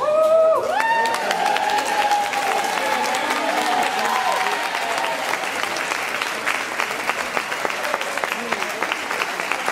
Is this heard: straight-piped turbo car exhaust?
no